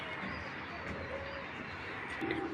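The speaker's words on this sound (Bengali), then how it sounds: "দর্শক একটা লোকাল কবুতর" A local pigeon coos softly amid a steady background hum, the low murmuring calls faint and continuous with no clear separate notes.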